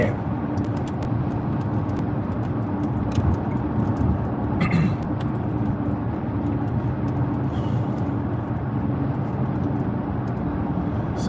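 A car driving on the road toward London, with a steady close interior road and engine rumble throughout, light ticks and a brief brighter swell midway, and no clear talk.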